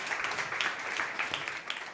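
An audience at a South Summit startup competition applauds a presenter, a brisk wash of many hands clapping at moderate distance for a couple of seconds.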